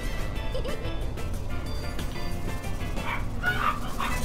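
Dogs barking and yipping in a racing video game, several yelps and whimpers over a loud, busy game soundtrack with engine noise, growing more prominent toward the end.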